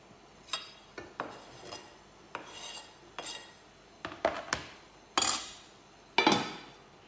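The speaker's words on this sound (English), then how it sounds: "So I'm just going to fling some bacon into this." Bacon flung into a cooking pan, heard as a series of sharp clattering and sizzling knocks, several close, loud bursts spaced irregularly over quiet kitchen background, with no speech.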